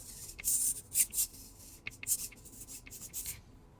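Body of an FCX18 Hummer RC car being trimmed, short scratchy cutting strokes in quick bursts, close and fairly faint, separated by brief pauses.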